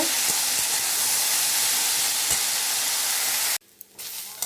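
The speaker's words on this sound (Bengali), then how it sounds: "ফুলকপি আর আলুটা আমার ভাজা হয়ে গিয়েছে।" A pan of fried potatoes and cauliflower for samosa filling sizzles loudly and steadily with faint stirring taps, then the hiss cuts off abruptly, leaving a much quieter stretch with a couple of small knocks.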